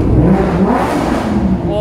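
Lamborghini engine revving loudly up close, a deep throaty roar that holds steady with people talking over it.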